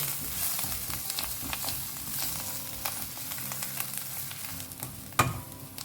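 Chopped coriander and green chillies are stirred into hot masala for paneer tikka masala, giving a steady close sizzle throughout with light scraping and stirring clicks and a sharper knock near the end.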